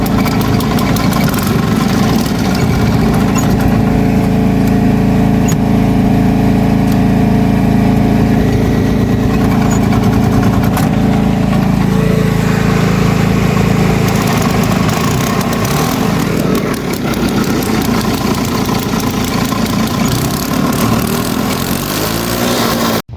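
A golf cart engine runs after its carburetor bowl gasket has been replaced, holding a loud, steady, close idle with an even mechanical drone for the whole stretch and no voices.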